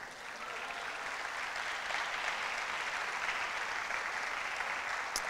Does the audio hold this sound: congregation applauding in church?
yes